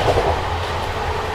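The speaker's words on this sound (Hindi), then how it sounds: "भाई गजब की रफ्तार में जो है अपनी विक्रमशिला भाग रही है" Vikramshila Express passenger train running at speed, a steady rumbling rail roar with faint clickety-clack of wheels, heard close from on board and continuous throughout.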